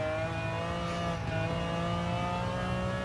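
Car engine in the racing game Gran Turismo 7, a high-downforce race car, holding a loud, steady, high-revving drone with strong tonal harmonics throughout and no talking.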